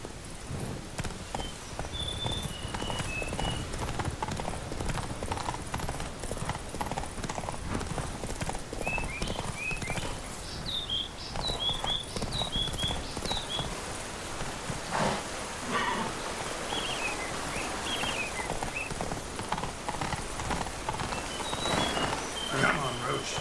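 Horse hooves clip-clop steadily at a gallop in the Witcher 3 video game, with a few faint neighs and rain-like ambience in the background.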